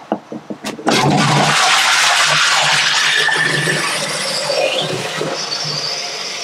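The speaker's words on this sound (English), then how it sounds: "This is what happens when Megan flushes the toilet." A toilet with a leaking cistern flushes loudly after a few sharp clunks of the handle, then water rushes and hisses on for several seconds, close and without speech.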